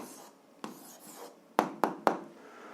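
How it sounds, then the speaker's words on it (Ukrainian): Pen or chalk strokes writing out an algebra answer, a soft scratchy rub followed by three sharp taps close up, with no voices. "Записуємо відповідь, пишемо відповідь."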